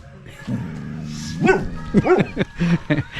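A dog growls low and steadily for about a second outdoors during a humanitarian project in the Philippines, then bursts into a series of sharp, close barks and yips.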